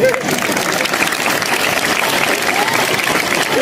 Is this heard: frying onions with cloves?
no